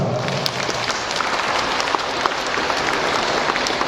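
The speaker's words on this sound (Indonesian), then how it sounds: "Tepuk tangan." Applause from guests at a Catholic church wedding just after the couple are declared husband and wife, a steady wash of clapping held at an even level through the full few seconds, with faint murmuring under it.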